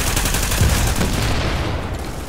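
A grenade launcher in a video game fires, producing loud, dense, booming bursts that run together for a couple of seconds with no talking.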